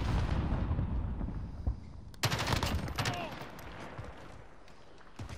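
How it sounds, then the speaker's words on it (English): Grenade blast and gunfire in Call of Duty: Modern Warfare: distant rumbling shots, then a sudden sharp burst of rapid firing midway, fairly quiet, with a player speaking early on. "Throwing grenade."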